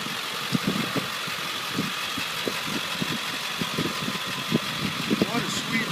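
A 2000 Ford F250 pickup with a 7.3L turbo diesel idles nearby, a steady low rumble with a fast knocking chatter that runs throughout while someone talks over it.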